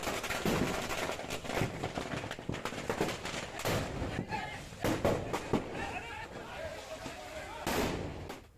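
Loud, sharp bursts of firecrackers go off repeatedly in irregular succession as a fire burns a firecracker shop, over a dense, noisy background, with a few especially strong cracks near the end.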